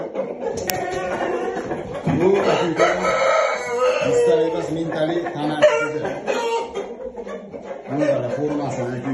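Young roosters crow in strained, wavering calls and cluck nearby, several birds overlapping throughout, with a voice mixed in among them.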